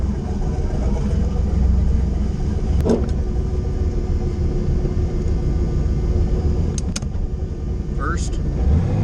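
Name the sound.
car backing up in reverse after Th400 transmission rebuild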